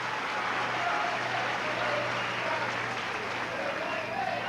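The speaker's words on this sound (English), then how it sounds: "So a great round of applause from the Leeds crowd." A rugby league crowd at Leeds against Rochdale Hornets in 1990 gives sustained applause for an injured player, a steady wash of clapping from a large stadium audience with a commentator's voice over it.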